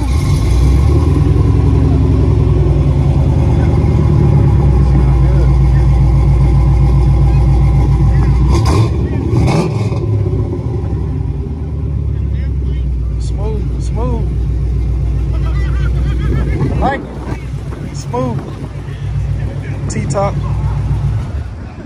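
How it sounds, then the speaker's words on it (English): A Pontiac Firebird Trans Am with flip-up headlights idles with a loud, steady low rumble at a car meet in North Little Rock, then blips into a few revs partway through, with voices talking over the engine noise. "Nice Firebird. He gonna start it up for me."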